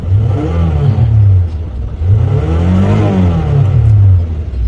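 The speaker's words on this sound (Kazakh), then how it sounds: "Моторы обороттарды, жоғары обороттарды жылдам алады." A Toyota Alphard minivan engine revs up and down repeatedly, climbing to a high pitch and falling back, loud and close with a steady mechanical drone.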